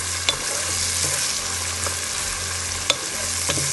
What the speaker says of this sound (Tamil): நல்லா டிரான்ஸ்பரண்ட்டாக வர்ற வரைக்கும் நல்லா வதக்கிட்டு இஞ்சி பூண்டு பேஸ்ட் போடுவோம்